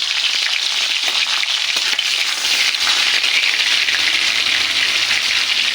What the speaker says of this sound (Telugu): ముందుగా ఎల్లుల్లిపాయలు కొంచెం వేగాలండి